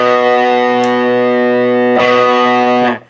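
A sustained, heavily distorted chord on an Epiphone Classic '61 electric guitar with Fishman active pickups rings loud and steady, briefly re-struck, then cuts off abruptly at the end.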